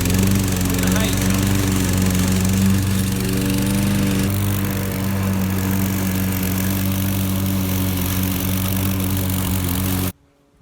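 A front-wheel drive self-propelled petrol lawn mower runs with a loud, steady engine drone close by, its pitch shifting slightly partway through before cutting off abruptly near the end; a voice talks over it.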